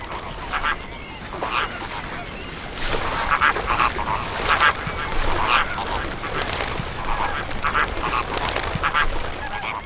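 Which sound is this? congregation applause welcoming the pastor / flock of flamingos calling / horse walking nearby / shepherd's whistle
flock of flamingos calling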